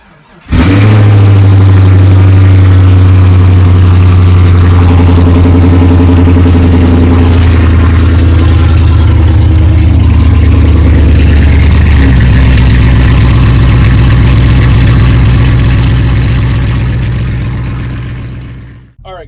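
A Corvette's engine cold-starts with a loud burst and then settles into a heavy, steady low idle that holds close and loud for most of the stretch before fading at the end.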